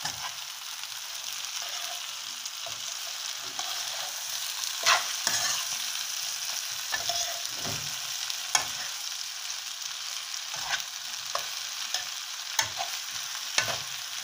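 Red and green peppers fried with carrot in a pan, a continuous oily sizzle broken by repeated scraping and clinking strokes from stirring, all close and without speech.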